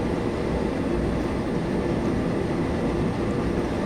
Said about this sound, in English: See Gatwick Express coming up now.